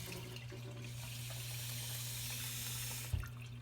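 Tap water runs steadily into a bread pan, a close, even rushing stream for a few seconds that ends with a soft clunk.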